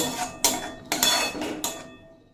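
Turmeric powder and spices being stir-fried in a pan for a ridge gourd and poppy seed dish, heard as four short bursts of metal scraping and clattering against the pan, each fading quickly, close and fairly loud.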